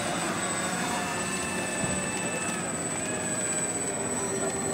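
FlightLine RC F7F Tigercat 1600mm twin-engine model warbird taxiing out across grass at a flying field, a steady high electric motor whine with faint shifting tones, continuous and moderately loud.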